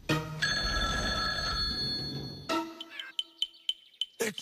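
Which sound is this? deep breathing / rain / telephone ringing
telephone ringing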